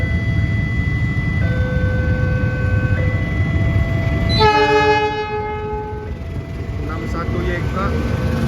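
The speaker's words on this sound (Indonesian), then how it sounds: "lokomotifnya CC206, kita lihat ya serinya berapa." A CC206 locomotive passes a level crossing at JPL 169 in Bandung. Its horn sounds in sustained chords over a heavy rolling rumble of the train, then a final loud blast before the noise tapers off.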